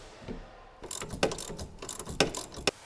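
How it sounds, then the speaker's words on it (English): A half-inch ratcheting wrench with a 17mm socket loosens the rear shock absorber to lower control arm bolt on a 2007-2009 Honda CR-V, giving several quick bursts of close, crisp ratchet clicks. "Use a 17mm socket with a half-inch ratcheting wrench to loosen the shock absorber to lower control arm bolt."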